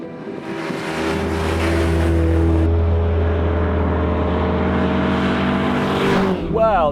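A BMW 2002 rally car's engine revs hard and steady while driving, a loud sustained harmonic drone that builds and holds, heard close from inside.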